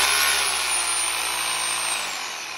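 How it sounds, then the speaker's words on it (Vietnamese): A Ryobi 800W three-function drill spins its bit slowly with a steady, loud whirring motor whine and a thin high tone on top. The sound winds down gradually near the end, and no one speaks. "nó sẽ xoay cái mũi khoan của anh em từ từ nè"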